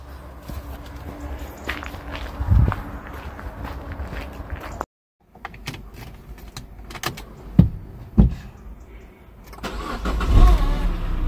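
A car engine with a newly repaired, previously slack timing chain cranks and catches early in the morning, then settles into a steady idle, with a few footsteps and a short silent gap along the way.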